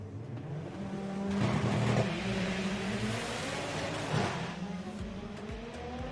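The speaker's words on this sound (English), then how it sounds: "Both tyres absolutely screaming from Terry's cars." Drag racing street cars launch down the strip at a sports compact shootout, engines roaring loud and tyres screaming in a sustained howl that swells and peaks mid-run before easing slightly.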